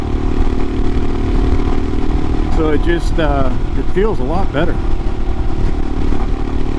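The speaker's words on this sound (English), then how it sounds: "no more big bog, mostly just engine noises and accelerate like it should." A 2022 Royal Enfield Himalayan fitted with a Hitchcocks carburetor conversion, riding in fourth gear just under 40 mph, gives a steady loud engine drone under a rider talking.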